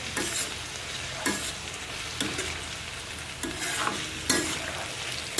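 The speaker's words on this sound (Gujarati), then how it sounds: "હવે આને પણ આપણે મિક્સ કરીને હલાવી લઈશું" Peanut curry stirred and frying in a pan, a dense continuous sizzle with occasional louder scrapes of the spoon every second or so, heard up close without speech.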